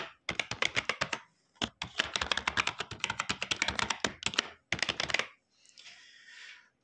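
Rapid keystrokes on a computer keyboard while entering a password during a software setup, a dense run of close, crisp taps in bursts with short pauses, ending in a softer rustle.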